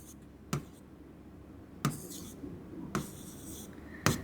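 Marker or chalk strokes on a classroom board as a teacher writes a Marathi grammar word, heard as a few separate taps and scratches spread out over a quiet room hum.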